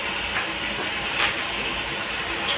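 Sprite poured into a hot pan of chicken adobo with soy sauce and ketchup gives off a steady, close sizzling hiss that swells slightly in places and continues throughout.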